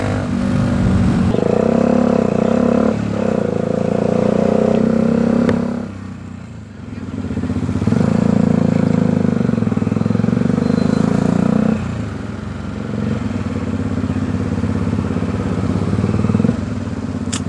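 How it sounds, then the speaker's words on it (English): A Bajaj Dominar 400 motorcycle cruises along a highway, its engine droning loud and steady under rushing wind, dipping briefly as the throttle eases before resuming. "this is probably going to be a pretty boring highway ride"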